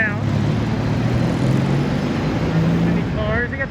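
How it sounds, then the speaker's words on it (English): Cars driving along a near-empty Manhattan street near Times Square during the 2020 pandemic, a steady close road rumble with a person talking over it throughout. "They got some cars coming this way."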